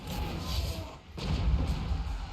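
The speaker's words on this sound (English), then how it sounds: "Got these two mortars blasting away over here." Mortar units firing in the Total War: Warhammer 3 strategy game, a dense rumbling barrage of low booming thuds with a brief dip near the middle before the blasts resume, loud and continuous.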